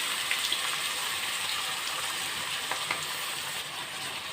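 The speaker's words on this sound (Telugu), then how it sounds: "నూనె వేడైంది కదండి, ఇప్పుడు ఉల్లిపాయ వేసుకుందాం" Medium onions sizzle in hot oil for a chicken and broad bean curry, a steady, close, even hiss with a few faint pops throughout and no talking.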